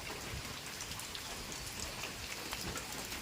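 Rain falls steadily on a flooded house front in wet, windy weather, a dense even hiss of drops spread over every pitch, with no voices.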